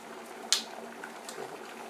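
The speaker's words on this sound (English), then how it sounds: "Probably hear it in the background bubbling." Quiet bubbling of boiling water in a pan, soft and continuous, with one sharp click near the start.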